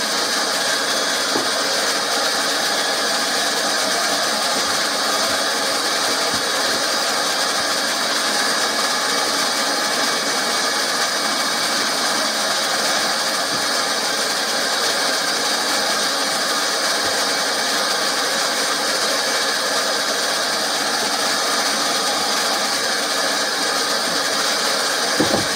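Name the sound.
hot air plastic welding gun welding a koi pond filter box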